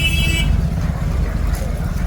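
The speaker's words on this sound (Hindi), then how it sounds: "देखो भाई, इस ट्रक ने ओवरटेक कर दिया" A truck overtakes on a road, its heavy low engine rumble steady and close throughout, with a brief high tone at the start and a passing whoosh of traffic noise.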